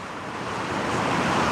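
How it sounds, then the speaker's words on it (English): Rough surf washing onto the beach at Marco Island, Florida, at sunset: a steady, dense roar of breaking waves that swells slightly louder toward the end, with no voices. "waves"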